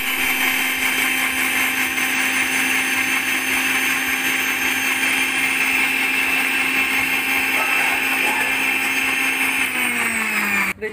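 A blender whirs steadily, mixing sugar and coffee for cold coffee, with a loud continuous motor drone that holds for about ten seconds before cutting off at the end.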